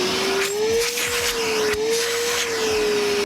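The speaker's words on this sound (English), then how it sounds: "that's a very powerful vacuum for something this small and compact" A compact Milwaukee M12 Fuel cordless wet/dry vacuum with a brushless motor runs continuously up close, a loud steady whine with a slightly wavering pitch over airy rushing noise.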